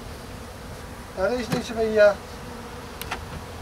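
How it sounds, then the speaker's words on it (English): Agitated honey bees buzz around a beekeeper's gloved hand during an early-spring hive inspection, a steady close hum rising with a brief louder swell, as someone speaks briefly. "See how the bees are attacking my glove?"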